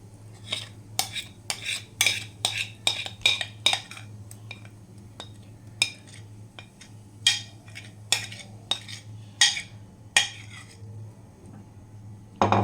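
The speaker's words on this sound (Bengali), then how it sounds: "বাটির মধ্যে সুজির ব্যাটারটা কিন্তু দিয়ে দিচ্ছি।" Semolina dhokla batter is spooned into an oiled bowl, with repeated irregular clinks and scrapes of a spoon against the bowl, close and fairly crisp.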